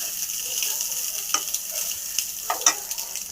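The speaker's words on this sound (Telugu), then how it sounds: "ఎగ్ వేసుకున్నాక ఒకసారి మిక్సింగ్ చేసుకోవాలి" Egg filling for samosa being stirred in a hot pan, with soft continuous sizzling and a few sharp scraping clinks of the spoon against the metal, close and fairly quiet.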